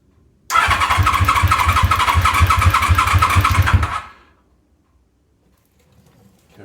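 A repaired machine's engine cranks steadily for about three and a half seconds in a loud, rapid rhythmic churn without catching, then stops, leaving near silence.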